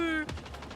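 A single sniper rifle shot in the video game Marathon, a sharp, close, loud report with a quick decaying tail.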